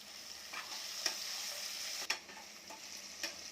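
Drumsticks (moringa pods) and potatoes sautéing in a pan, a steady soft sizzle with a few sharp spoon clicks against the pan, close and fairly quiet, no talking.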